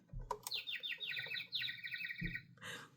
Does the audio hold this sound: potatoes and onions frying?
no